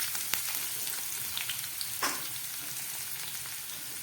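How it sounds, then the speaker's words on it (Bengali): Chopped onions frying in a pan over low gas flame, a continuous even sizzle with a few light clicks and one brief stirring scrape partway through; nobody speaks. "এবার দিয়ে দিচ্ছি কেটে রাখা পেঁয়াজ।"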